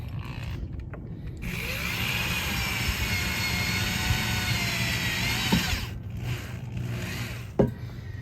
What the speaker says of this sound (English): I take a little bit and I drill it so that the self-tapping screws go in a little bit easier